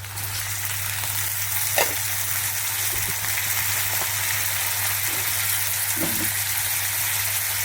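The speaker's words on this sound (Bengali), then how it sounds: "টমেটো কুচিয়ে রেখেছি, এটা দিয়ে দিচ্ছি।" Chopped tomatoes go into a pan of ginger and garlic frying in hot oil, setting off a loud, continuous sizzle that holds steady for several seconds with small stirring clatters and no talk over it.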